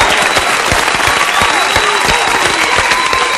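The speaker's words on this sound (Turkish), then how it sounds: "Ben seni alkışlıyorum." Dense applause from a studio audience on a Turkish comedy show, continuous crisp clapping with a faint tone and crowd murmur beneath.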